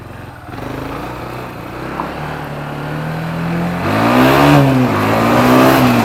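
A Kawasaki Bayou 250 quad's mid-pitched engine pulls steadily and loud near the house, its revs climbing and then jumping to a higher pitch around the gear changes partway through.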